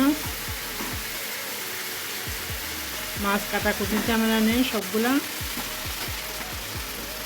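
Rohu fish cooks in oil with salt, turmeric and chilli masala, sizzling strongly with a regular run of spatula scrapes; a voice talks briefly over it midway.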